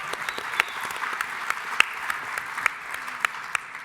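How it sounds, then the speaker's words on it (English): A small, distant audience at an annual meeting education panel gives light applause, a soft, steady patter of clapping with a few sharper individual claps standing out. "So a round of applause for the teachers' unions for advancing school choice"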